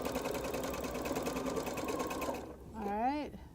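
A sewing machine with a Teflon foot runs steadily while hemming, a continuous even whirr of rapid stitching that stops abruptly, followed by someone speaking.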